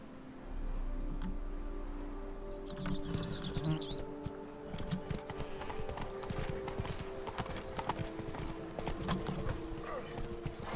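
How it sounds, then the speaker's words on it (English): Horse hooves clip-clop steadily in the video game Witcher 3, a continuous rhythmic trot with game music and ambience underneath and occasional speech over it. "Whoa there, Roach."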